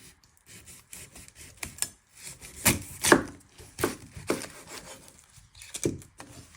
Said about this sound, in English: You're first going to chop your ends off. I like to flatten it so it's more easy to chop.